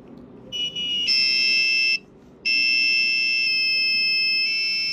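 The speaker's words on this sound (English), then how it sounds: "So as you can see, it still works, but the quality of the buzzer is not that good" An active buzzer wired into a small electronic circuit sounds a loud, steady electronic tone in two long bursts separated by a short gap, shifting slightly in pitch partway through the second burst.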